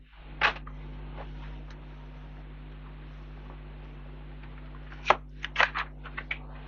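Tarot oracle cards being picked from a deck give soft papery rustles: one brief burst early, then a cluster of quick flicks near the end, over a quiet steady hum.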